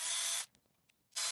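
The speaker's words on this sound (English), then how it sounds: "I'm going to drill a hole in the bottom here in case any water gets in" A power drill with a 3/32 inch bit bores a drain hole in the bottom of a 2021 KZ Escape E17 trailer hatch, giving two loud bursts of whirring with a short quiet gap and small clicks between.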